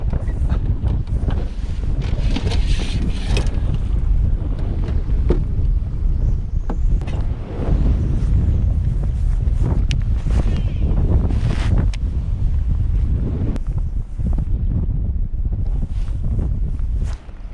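Strong wind buffets the microphone on a lake while fishing, a loud, continuous roar with gusty surges and rumbling lows that persists throughout, with faint water sounds beneath.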